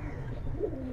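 A Giribaz pigeon coos close by, a soft, low, throaty warble rolling through the short moment with no one speaking.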